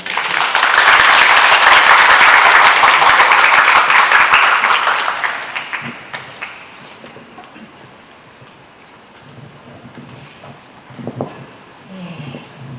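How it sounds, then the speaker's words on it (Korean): An audience at a book talk breaks into loud, sustained applause for about five seconds, then it fades away, leaving scattered small noises and quiet room sounds. "끝내 맞춰주셔서 박수 한 번만."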